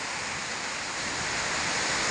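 Steady, dense rushing of rainwater pouring down like a waterfall fills the clip, a broad continuous roar, with no voices.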